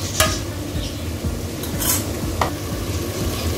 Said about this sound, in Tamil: நல்லா கிண்டி வச்சுட்டு கொஞ்சம் நேரம் அப்படியே வதங்க விட்டுறணும்